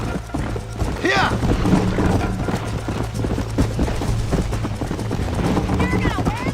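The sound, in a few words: horse hooves galloping in the video game Red Dead Redemption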